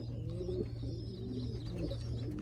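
Pigeons coo steadily in a breeding loft, a continuous low, throaty murmur from several birds close by, with a few brief higher chirps over it and no talking.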